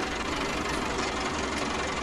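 A tractor engine in a video game driving over snow, a steady loud rumbling drone with a low knocking pulse, continuous and close with no pauses.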